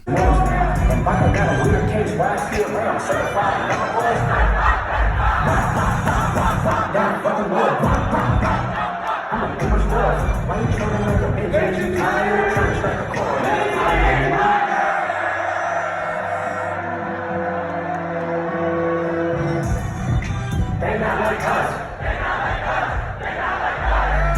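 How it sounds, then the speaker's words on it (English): A concert crowd in Atlanta chants loudly in a back-and-forth call and response, the mass of voices filling the space steadily throughout with rhythmic surges. "Whole crowd chanting it back and forth."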